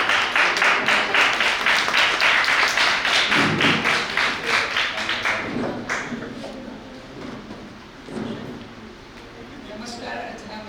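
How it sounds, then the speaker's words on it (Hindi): An audience at a Women's Day gathering claps loudly to welcome the chief guest, a photojournalist. The dense applause fades after about five seconds into quieter room sound, with a voice speaking over the end. "तो जोरदार तालियों से"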